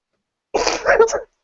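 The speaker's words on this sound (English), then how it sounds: "Just sneezed." A single abrupt sneeze, close and fairly loud, bursting out after silence with a short explosive release.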